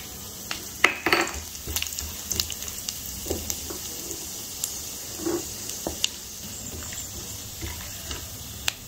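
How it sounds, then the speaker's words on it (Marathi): Almond slices fry in ghee with a crackling, popping sizzle, punctuated by light clinks and stirring taps from a pan, fairly close and moderate in level. "ते बदामाचे काप पण तळून घेऊ."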